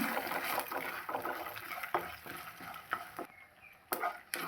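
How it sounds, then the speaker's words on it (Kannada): Urad dal and chana dal fry in a pan for okra palya, making a soft continuous crackle with repeated stirring scrapes and a few louder clacks near the end, faint and close. "ಇದನ್ನು ಸ್ವಲ್ಪ ಚೆನ್ನಾಗಿ ಫ್ರೈ ಮಾಡ್ಕೊಳ್ಳೋಣ"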